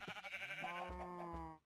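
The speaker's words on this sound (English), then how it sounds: "Sheep." A single sheep bleats in Minecraft, one wavering, drawn-out call that is clear but fairly quiet, standing alone.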